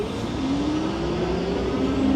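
A Hovsco GTRS e-bike pulling away on throttle only, its rear hub motor giving a steady whine that climbs slowly in pitch over loud rushing wind noise, close and continuous.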